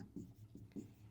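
A pen scratches out a maths solution to a polynomial exercise on paper in short rhythmic strokes, soft and close, with no talking.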